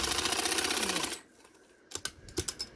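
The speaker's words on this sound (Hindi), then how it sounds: "अब ये लेस वाला बखिया देने लगी हूँ।" A sewing machine stitches lace onto a neckline. A fast, loud, even run of needle strokes stops abruptly, followed by a pause and a few scattered mechanical clicks and thumps nearby.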